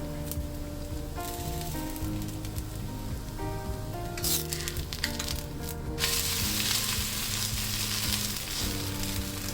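A dosa frying in olive oil on a pan, a continuous crackling sizzle under background music, with a brief burst of louder spattering midway.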